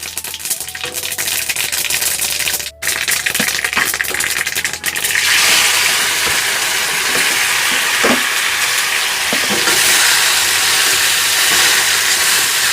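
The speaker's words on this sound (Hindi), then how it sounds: "गाइस ये है सरसों के दाने। वाह, ऐसे कुछ उछलते हैं ये।" Mustard seeds crackle and sizzle in a hot pan on a home stove, a steady close frying hiss with scattered sharp pops, getting louder and brighter partway through as the seeds spit and jump.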